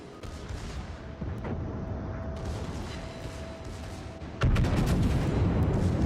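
Warship artillery fires in World of Warships, with a loud, heavy boom arriving near the end over a steady rumble of battle ambience, preceded by fainter thuds.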